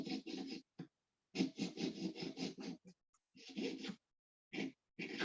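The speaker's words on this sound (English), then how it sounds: "turning my metal as I saw." A hand saw cuts through metal in steady back-and-forth strokes, close and rasping, in bursts separated by short pauses while the workpiece is turned.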